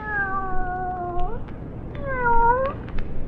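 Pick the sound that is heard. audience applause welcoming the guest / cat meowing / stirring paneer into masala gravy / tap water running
cat meowing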